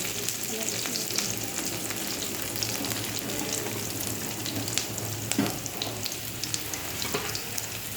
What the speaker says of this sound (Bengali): এবারে আদা রসুন বাটাটা দেবো, পেস্টটা দেবো।